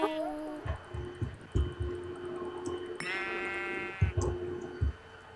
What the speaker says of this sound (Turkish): Siyah koyun.